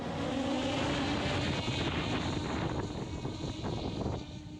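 A fibre-optic FPV drone flies near the front line, its continuous buzzing drone steady and loud over wind noise for several seconds, fading slightly at the end.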